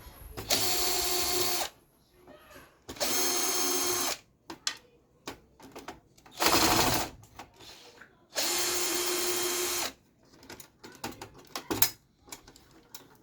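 A power screwdriver removes screws from a server system board in four loud bursts of whirring, each a second or so long, separated by quieter clicks and handling noises.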